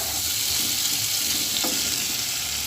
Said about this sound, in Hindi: 1 मिनट तक इसकी अच्छे से बुनाई कर लें ताकि ये बिल्कुल ड्राई हो जाए